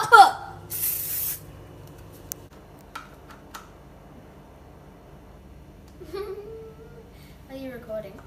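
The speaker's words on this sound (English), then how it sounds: "Now you spray the pan all over." Olive oil cooking spray hisses onto a pan in a home kitchen, one short burst near the start, followed by quiet room sounds, light clatter and a voice toward the end.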